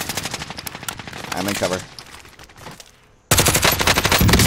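Rapid automatic gunfire from a Call of Duty: Modern Warfare match rattles in bursts, loud and close, dropping out briefly before resuming, while players talk over the shooting.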